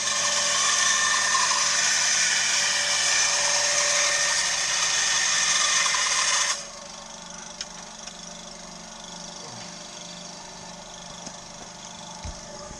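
A bandsaw cuts wood in a workshop during boat maintenance, a loud steady broadband whine for about six and a half seconds that stops abruptly, leaving quiet room tone with a few faint knocks.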